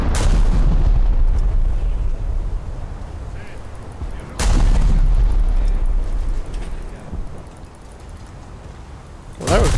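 Naval guns fire in the War Thunder video game as ships engage a cruiser, with three heavy booming shots spaced several seconds apart and a rumbling tail after each, while a player talks over the battle.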